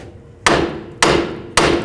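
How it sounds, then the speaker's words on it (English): A hammer strikes a punch from the back of a Nissan Xterra wheel hub three times at an even pace, each a sharp, loud metallic tap that rings briefly before the next. "And then just take a hammer and from the back side, give it a bunch of taps."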